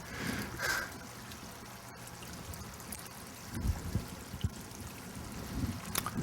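Fermenting mash bubbling in a vat at a West Virginia distillery, giving a soft, steady gurgle with occasional louder pops and bursts, moderately faint with no talking.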